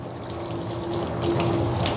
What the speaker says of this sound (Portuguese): Aí você vai lavar os braços em água corrente